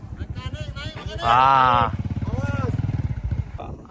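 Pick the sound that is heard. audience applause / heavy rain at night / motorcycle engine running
motorcycle engine running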